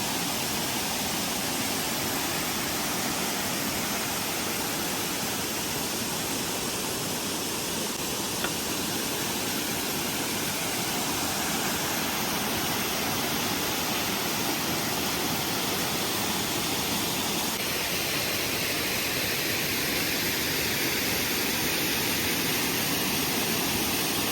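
A forest waterfall near the Agasthyarkoodam trekking trail in Trivandrum roars as a steady, dense broadband rush that fills the whole clip without pause.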